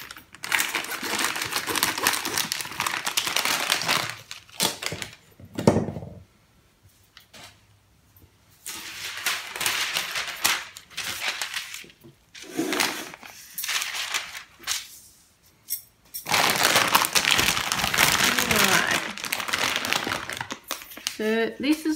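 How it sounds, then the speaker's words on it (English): A plastic bag of raspberry lollies is cut open, then baking paper is pulled out and crinkled, giving bursts of close crackly rustling that stop and start across the stretch, with speech in between. "we're going to cut open this bag, and then we're going to get some baking paper ready"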